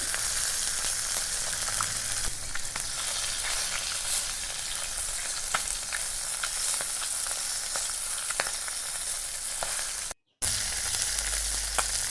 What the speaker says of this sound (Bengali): তো আমাদের মাছের ভাজার যে পর্বটা প্রায় শেষ হয়ে এসেছে